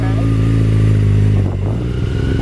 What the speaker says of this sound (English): Notice the revs are dropping and the bike is moving.